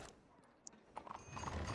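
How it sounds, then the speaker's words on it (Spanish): Horse hooves clip-clop along with a whinny in a Red Dead roleplay video game, the hoofbeats building louder toward the end with a short neigh in between, no talk over it. "Kira, ¿seguro que vas a caballo?"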